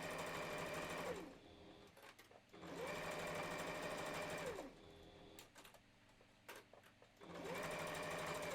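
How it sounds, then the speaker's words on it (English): A sewing machine runs in three bursts of steady mechanical stitching on a Christmas stocking, each a couple of seconds long, with brief quiet pauses and a few small clicks between them. "I'm thankful for the sewing machine right now"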